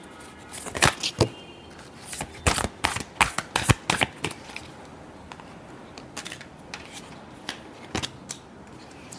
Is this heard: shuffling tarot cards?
yes